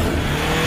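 A truck in an Indian film scene rushes in with a loud, brief roar of engine and road noise, close and dense for under a second.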